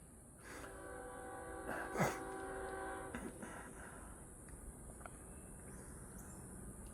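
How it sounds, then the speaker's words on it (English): Florida East Coast Railway train FEC 107 passes at a street crossing, its horn sounding in one long blast before the low rumble of the cars carries on steadily and fades slightly. "There's the train at Midori Street."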